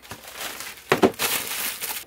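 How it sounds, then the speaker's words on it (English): An X-Acto blade slicing through the cellophane wrap on a Tamiya model kit box, heard as close crinkling and crackling plastic with two sharp louder tears around the middle and a continued rustle afterward. "Oh, I have an X-Acto blade. I'll just cut it like that."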